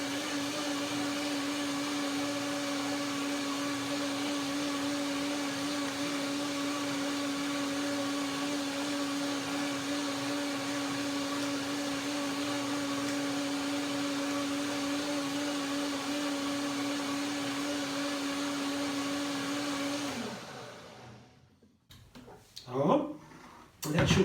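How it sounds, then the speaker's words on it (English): A blender whirs steadily at a constant pitch for about twenty seconds blending cashew cream, then winds down and stops, followed by brief clattering. "I blend one more time, one more blender then."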